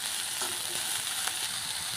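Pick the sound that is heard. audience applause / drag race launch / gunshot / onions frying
onions frying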